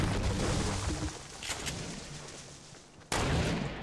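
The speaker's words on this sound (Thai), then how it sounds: "จะยิงให้หนวกหูสักนัดให้ดู" Gunfire in Fortnite: loud, dense bursts of shots fill the clip, easing briefly in the middle before another sharp, loud blast near the end, with no voices.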